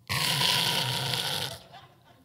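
A man imitates a loud open-mouthed snore, one long rasping, throaty inhale-like roar lasting over a second before trailing off into quiet.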